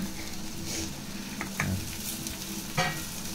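Poha mixed with sugar and salt being stirred into a hot tempering in a pan, a steady close sizzle with scraping spoon strokes and light clinks throughout.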